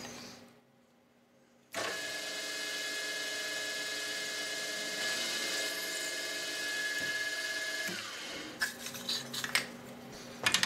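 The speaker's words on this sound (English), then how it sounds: "drilling the two holes that mount this bracket to the casting on the milling machine" A milling machine drills holes in a metal casting, with a sustained whining motor tone that starts suddenly, then drops off and gives way to a few clanks and rattles at the end.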